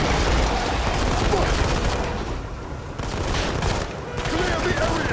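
Dense, continuous gunfire from a Modern Combat 5 shooter game, a loud unbroken fusillade of rapid shots with brief dips in intensity, with faint shouting mixed in.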